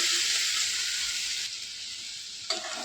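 Boiled dal poured into a pan of frying jute leaves brings a loud, steady sizzle that drops to a quieter simmering hiss, with a sharp burst of sizzle near the end.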